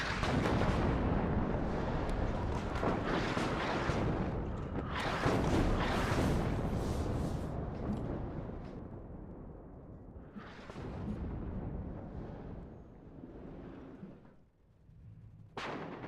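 Artillery in the WARNO war game, fired in rapid mortar-like volleys: a dense run of booming blasts and rumbling impacts, loud at first and then thinning into scattered, fading explosions.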